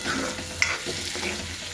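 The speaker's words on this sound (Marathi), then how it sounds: "इकडे हिरव्या मिरच्या ते बोजवा कांदा शेंगदाणे सगळं भाजून दोडक्याची भाजी चालू आहे माझी" Ridge gourd curry frying with green chillies, onion and peanuts, a steady low sizzle and crackle from the pan, with a brief clink near the middle and no talking.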